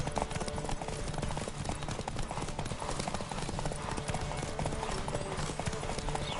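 Rapid clip-clop of a horse at full gallop in The Witcher 3, a steady, driving hoofbeat rhythm with rushing wind and game ambience running loud throughout.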